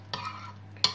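Quiche ingredients being stirred together in a bowl, a brief close swish with a couple of soft scraping taps, quiet and alone.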